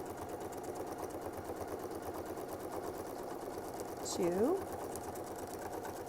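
A sewing machine runs steadily at close range, stitching through quilt layers with a Westalee ruler template, a rapid, even mechanical chatter throughout, with a brief spoken count partway through.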